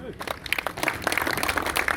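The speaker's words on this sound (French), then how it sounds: "on peut les applaudir." A crowd at a labor protest rally against an unemployment reform breaks into applause that is uneven at first and grows denser and louder, with voices mixed in.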